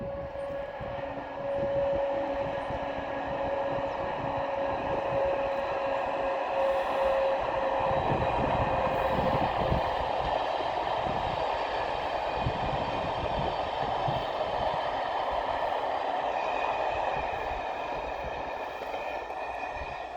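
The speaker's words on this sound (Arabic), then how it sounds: "ها هو القطار هابط" Train descending along a railway line near Meknes, a steady rumbling roar with a faint horn-like tone early on, holding at an even, moderate distance throughout with no talk.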